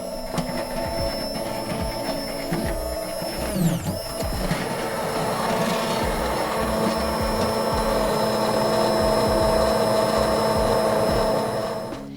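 An immersion blender whirs through a pot of lobster bisque, a steady, loud mechanical drone with a faint wobble that holds for the whole stretch with no talking.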